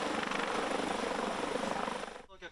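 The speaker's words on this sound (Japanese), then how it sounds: "県の防災ヘリによる上空からの救助訓練も行われました" A prefectural disaster-prevention helicopter during a rescue training drill, its steady, loud, close rotor thrum running continuously before cutting off abruptly near the end.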